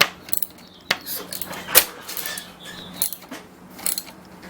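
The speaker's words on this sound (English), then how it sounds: "Just get a wrench. Kind of a little wrench with an extension" A small wrench with an extension works a rear shock bolt loose on a Kawasaki KLX140L dirt bike, giving close metallic ratcheting clicks and clinks in irregular bursts.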